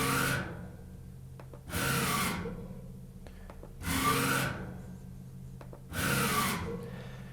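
A small CNC mill motor at 2000 RPM drives a 5 mm pitch ball screw through quick rapid moves, giving four loud whirring bursts of rising and falling pitch at regular intervals over a low steady hum.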